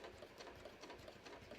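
A sewing machine stitches forward and back on a handmade holiday card, giving a steady, fairly quiet mechanical whir with a fast even rhythm.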